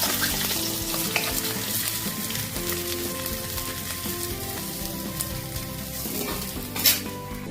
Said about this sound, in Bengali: ওই তেলের মধ্যেই কালো জিরে ফোড়ন দিয়ে দিলাম